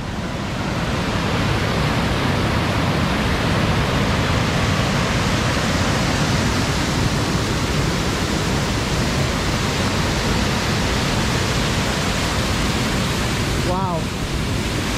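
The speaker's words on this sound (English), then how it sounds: "the Glenbarrow waterfall." Glenbarrow waterfall in the Irish midlands, a loud, unbroken roar of rushing water that stays constant and close for the whole stretch, with no voices over it.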